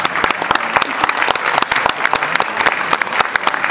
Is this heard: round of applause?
yes